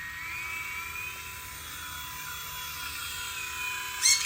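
A Blade mCX micro RC helicopter spins up its rotor on a cinder block launch pad, giving a steady high electric whine and buzz that holds evenly throughout, with a brief louder swell near the end.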